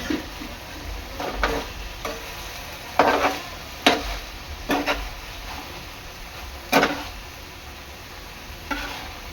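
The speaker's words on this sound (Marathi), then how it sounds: "चांगला सॉसमध्ये हा मिसळून घ्यायचा आहे" A spoon stirring vegetable sticks into sauce in a pan, with soft scraping strokes and intermittent clacks against the metal over a faint sizzle, close and unaccompanied by talk.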